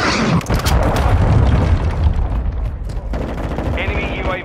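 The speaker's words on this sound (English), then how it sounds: "Hostile cruise missile incoming!" Loud, dense game combat in Call of Duty Modern Warfare 2 with booming blasts and gunfire throughout, a cruise missile explosion among them, while voice callouts sound over the din.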